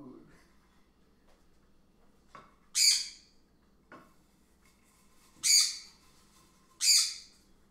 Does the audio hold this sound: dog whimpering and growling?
no